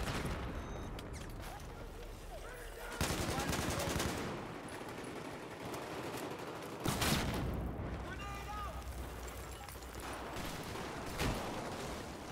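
Automatic gunfire in Battlefield 4 multiplayer on PS4, with dense, continuous machine-gun bursts and louder volleys near three and seven seconds, all mixed with game noise.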